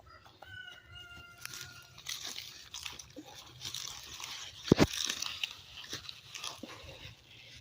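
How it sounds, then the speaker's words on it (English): A rooster crows from a backyard vegetable garden, its call rising in harmonic bands early on, heard at moderate distance over outdoor background noise with a few sharp nearby crunches and clicks. "Whenever he hears my voice, he starts crowing."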